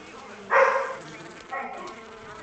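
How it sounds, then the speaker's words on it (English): Bees buzz around a beehive in the game Far Cry 4, two loud swelling drones close by, the first stronger, over a faint background hum. "these bees are messing me up"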